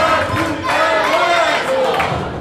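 Spectators at a women's ninepin bowling match cheer and shout loudly together, urging on the Rákoshegyi VSN team in a sustained crowd roar.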